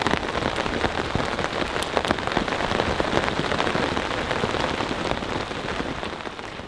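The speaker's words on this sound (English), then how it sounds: "It's raining so hard out there that I really can't talk to you all." Heavy rain pours down hard on a campsite during a thunderstorm, a loud, dense and steady hiss with scattered sharper drop hits throughout and no voices.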